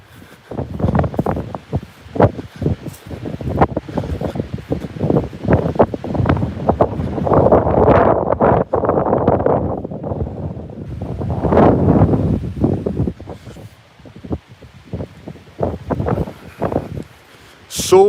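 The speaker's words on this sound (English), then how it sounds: "So windy here, guys, so sorry about the wind." Strong wind buffets the microphone in loud, uneven gusts and roaring bursts, with brief lulls between them.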